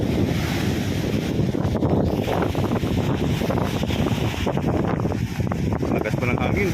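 Heavy wind buffets the microphone over the constant roar of rough, pounding sea waves during a typhoon, a boat nearby; the noise is loud and unbroken throughout, with a voice talking faintly under it.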